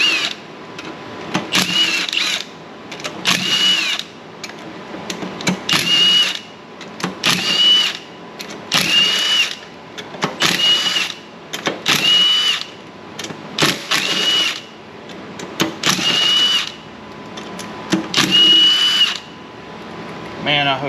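A power drill runs in repeated bursts of roughly a second each, about a dozen whirring pulses with short pauses between, loud and close, while work goes on around a Ford F100 truck.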